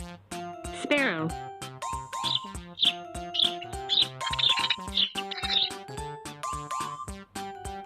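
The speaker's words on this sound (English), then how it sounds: "Sparrow." A sparrow chirps in quick, bright bursts of high tweets set against a cheerful musical backing in a children's animal-sounds lesson.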